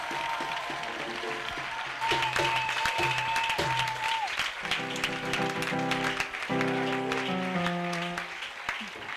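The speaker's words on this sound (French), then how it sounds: "Let's clap for Jesus Christ." Church congregation clapping in rhythm during a worship offering, dense and steady throughout, mixed with music and voices.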